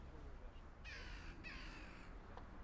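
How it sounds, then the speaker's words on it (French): Crows caw outdoors in two clear bursts, each a run of harsh calls lasting about half a second, over steady background noise. "Il y a des mouettes. Ou des corbeaux,"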